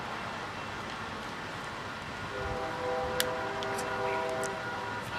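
Lead locomotive on a Michigan Class II railroad sounding its horn for a crossing, a sustained multi-tone blast rising in over steady rumbling train noise, with a brief sharp click partway through.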